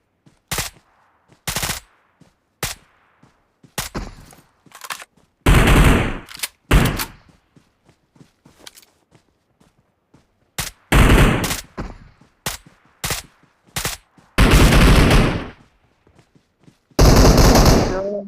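Rapid bursts of video game gunfire ring out in loud, irregular volleys, some long and sustained, separated by short gaps, with a player talking between them.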